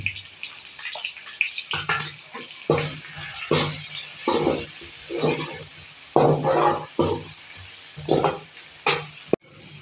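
Spice masala sautés in a pan for chapati noodles while a spatula mixes it in brisk, rhythmic scraping strokes over a steady sizzle, ending with a sharp knock against the pan.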